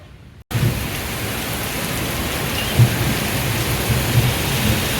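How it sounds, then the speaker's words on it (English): Heavy monsoon rain pours down in Saigon as a dense, loud, continuous hiss, with low thunder rumbles breaking through at moments; it starts abruptly after a brief quiet and no one speaks. "This rain. is the worst rain I've ever seen in my whole life."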